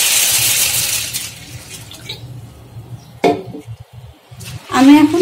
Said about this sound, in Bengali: আর এর মধ্যে আমি এখন পানি দিয়ে দিচ্ছি।